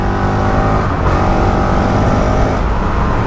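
Honda CRF450L motorcycle fitted with a power up kit, its engine revving loud and close in a continuous raspy roar with slight rises in pitch, alone without talk.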